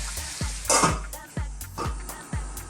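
A spoon stirs mushroom peas curry with tomatoes in a pan, giving about five rhythmic scraping strokes close up over a soft sizzle.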